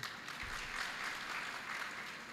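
Faint clapping from an audience during a Hindi sermon, a soft, continuous patter of many hands heard from a distance, low in level and without speech.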